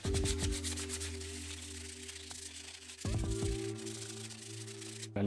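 Steady abrasive sanding against a Dana 30 axle's metal cover, continuous and close, with a brief pause near the end before the scraping resumes.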